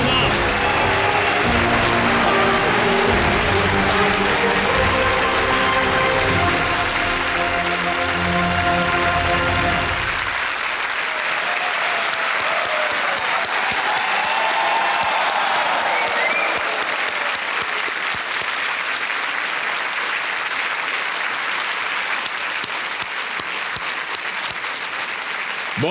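A TV quiz show studio audience gives a standing ovation, with loud sustained applause and cheering throughout. Music plays under it at first and then fades out.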